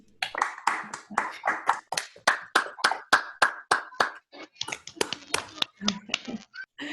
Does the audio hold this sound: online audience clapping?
yes